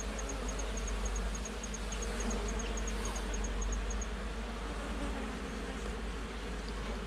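Steady, dense buzzing of many honey bees close by, a continuous drone with no voices.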